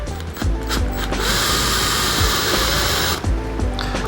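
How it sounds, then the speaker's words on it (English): A countersink bit grinds into the foot of a wooden serving tray, giving a steady, close, rattling whir for about two seconds, with brief mechanical clicks and handling noise before and after. No one speaks. "We're gonna take our countersink."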